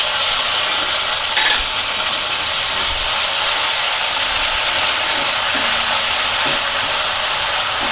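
Ground spice paste of tomato, ginger and green chili is tipped into a hot pan for a katla fish curry, giving a loud, steady sizzle and hiss that fills the whole stretch with no talking.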